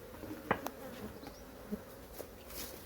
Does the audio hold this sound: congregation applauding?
no